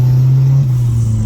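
An Opel Corsa with a turbocharged C20XE engine making about 120 kW revs hard on a dyno, a loud, steady droning rumble that sags briefly before climbing again.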